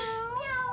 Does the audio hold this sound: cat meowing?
yes